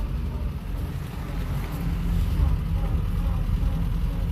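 Interior of a cranky 1948 Peugeot 202 on the move, a steady low engine and road rumble with rattling vibration and wind buffeting the microphone, swelling slightly louder midway, with no talk.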